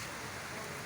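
Light rain falling in Karachi, a steady soft hiss of drops on surfaces, even and continuous, moderately quiet with no speech over it.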